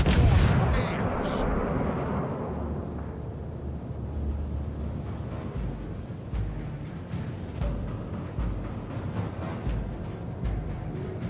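Heavy warship guns boom in World of Warships Legends, a loud opening blast followed by rolling low rumbles and repeated distant thuds under ongoing naval battle noise.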